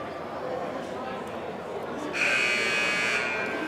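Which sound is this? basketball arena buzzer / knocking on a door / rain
basketball arena buzzer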